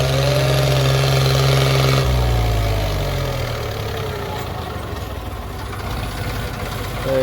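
A tractor pulling a disc harrow rumbles steadily nearby, its pitch dropping as it slows and settles into a lower, rough idle.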